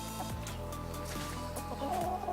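Hens cluck and murmur close by in a garden plot, a steady busy flock with several overlapping clucks and no one speaking over them.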